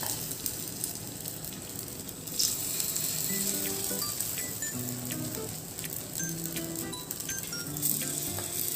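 Appe batter sizzles on a low flame in an appe pan, a close, crackling fry that holds steady with small pops and faint clinks throughout, and nobody speaks.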